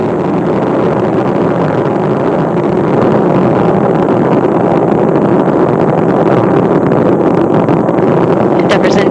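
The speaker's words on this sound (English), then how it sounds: "Endeavour's engines were throttling down as the orbiter passes through the area of maximum pressure on the vehicle" Space Shuttle Endeavour's engines roar during launch from Kennedy Space Center, a loud continuous broadband rumble that holds steady throughout without breaks.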